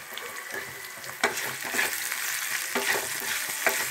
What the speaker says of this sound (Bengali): আমি এবার পেঁয়াজ কুচিটা দিয়ে দিচ্ছি।